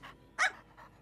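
A cartoon dog pants in short breathy puffs, three quick bursts with the middle one loudest, close and clear over a quiet background.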